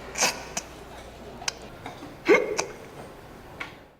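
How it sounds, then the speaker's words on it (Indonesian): A frightened character in a Korean drama hiccups several times, sharp close gulps at irregular intervals with quiet pauses between them. "Tae-go yang tadinya sok jagoan malah jadi cegukan karena saking takutnya"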